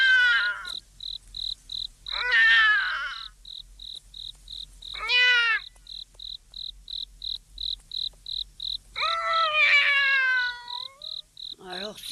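A cat meows several times at night, drawn-out wavering cries, close and clear, between silences filled by a steady, rapid pulsing chirp of crickets.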